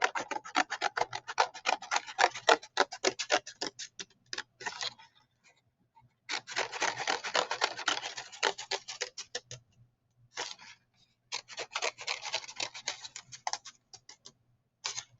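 Scissors cut through paper for a Calder-style paper sculpture, dense rapid ticking snips in close-up bursts separated by brief pauses.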